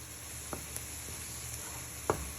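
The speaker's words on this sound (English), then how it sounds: "you're just frying your mince for another 2 minutes" Low, steady sizzle of beef mince frying in a pan, with a few soft clicks and scrapes of stirring; no voices.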